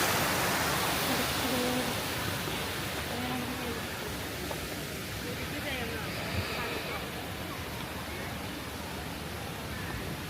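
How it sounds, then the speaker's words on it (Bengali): Water from a fountain at Foy's Lake amusement park splashes and rushes in a steady, loud broadband wash throughout, with faint voices and outdoor activity in the background. "ঝর্ণা ঝর্ণা ঝর্ণা। কি ঝর্ণা, কি সুন্দর করে করতেছে।"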